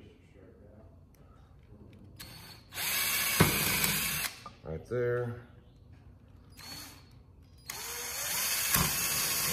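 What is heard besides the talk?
power drill re-drilling a hole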